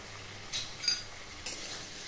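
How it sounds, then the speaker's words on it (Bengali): Masala of slit green chillies, capsicum, ground spices, ginger and garlic being stirred in a pan for chana masala, heard as faint scraping strokes and light clinks over a soft, quiet sizzle. "মশলাটা ভালো করে কষানো হোক বন্ধুরা"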